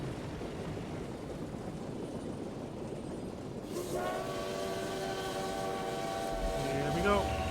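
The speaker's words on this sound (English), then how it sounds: "Come on, train." A passing train in the World of Tanks video game starts with rumbling wheels on rails, then a long steady horn blast comes in halfway through and holds to the end over the clatter.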